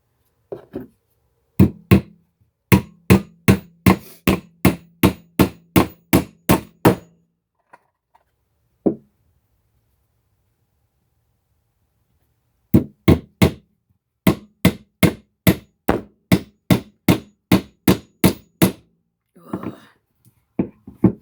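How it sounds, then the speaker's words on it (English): Sharp hammer blows drive nails into a wooden hand-tools tote, a fast, evenly spaced run of about a dozen close, loud strikes, then a pause with a single hit, then another quick series of rhythmic blows. "bring it back down and drive the nail"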